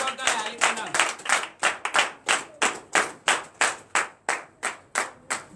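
A church congregation at a Sunday service claps in unison, about two to three sharp claps per second in a steady rhythm, bright and close.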